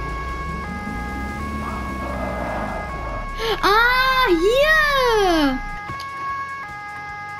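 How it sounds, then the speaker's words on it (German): A police car siren in the Autobahn-Polizei Simulator 2 video game, a rising and falling electronic wail over steady game engine hum, while someone speaks briefly alongside it. "Ich hab vergessen, die Sirene auszuschalten."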